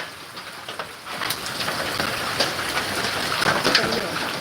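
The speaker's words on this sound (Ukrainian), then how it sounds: "Це град, шановні." Hail falling across a yard during a storm, a dense steady patter with scattered sharper impacts, fairly close and continuous throughout.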